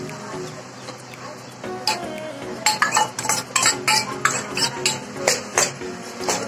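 Chopped onions and green chillies stirred into butter in a pan while making pav bhaji, with a sizzling bed under repeated clinks and scrapes of a spoon against the pan, close and fairly busy.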